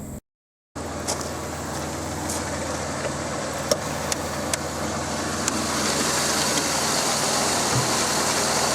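A supercharged 3800 V6 in a 1994 Pontiac Bonneville SSEI idles steadily with the hood open, a close, even hum with faint hiss and a few light ticks, continuous with no voices.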